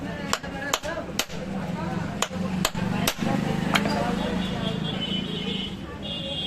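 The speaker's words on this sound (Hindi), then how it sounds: "इस तरीके से आप कोई छेनी वगैरह रखें और यहाँ से इसे काट दें इस तरीके से।" A hammer drives a chisel to cut the rivet of a pair of desi scissors, giving about seven sharp metallic strikes at an uneven pace, close and clear over a steady background hum.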